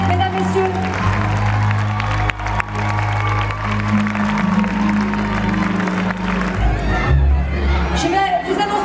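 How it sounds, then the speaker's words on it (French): Applause and cheering from a crowd at the Miss Île-de-France 2023 beauty pageant, steady clapping mixed with shouts under a loud musical backing. "On peut l'applaudir s'il vous plaît, mesdames, messieurs."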